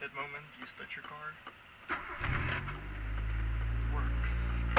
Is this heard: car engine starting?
yes